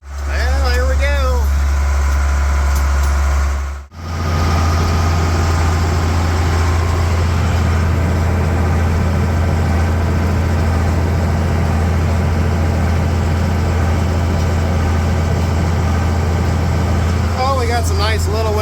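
Tractor engine drones steadily and loud while pulling a square baler through hay windrows in second gear, first power shift, with a heavy low rumble throughout and a brief cut near the start; no talk over it.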